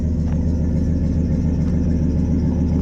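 A truck engine idles steadily nearby, a low rumbling drone with a regular pulsing throb and no voices.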